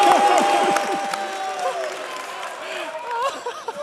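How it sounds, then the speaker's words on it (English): Audience clapping and light cheering at an EVE Fanfest 2015 tournament event, a dense crowd sound that starts loud and slowly fades, with voices and whoops mixed in. "I'm only clapping."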